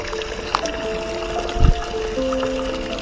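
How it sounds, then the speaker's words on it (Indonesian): Spring water runs from spouts at a bathing place, a steady, close wash of flowing water with a brief low splash partway through, no voices. "Ada beberapa pancuran di sini"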